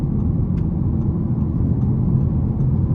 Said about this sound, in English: Now the tires are a little loud. Again, I'm on a rougher stretch of pavement